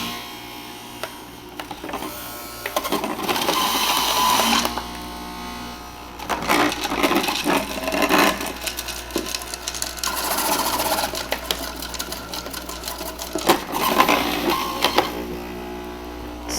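An electric juicer with a large feed opening whirs as it juices vegetables, with its motor rising into grinding surges each time pieces are pushed in, heard alone without talking.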